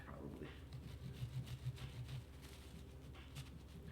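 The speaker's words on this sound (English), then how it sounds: "I'm carving out the second ear here now." A knife saws and scrapes through pumpkin rind while carving out an ear shape, a quiet, close, irregular rasping with short rhythmic strokes, faint and steady with no talk.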